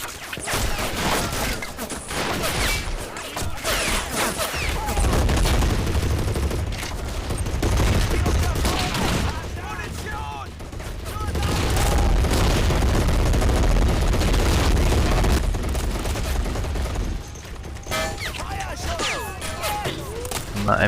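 Sustained machine gun fire with heavy booms and explosions in the Men of War World War II strategy game, loud and dense throughout a long battle, with voices occasionally under the din.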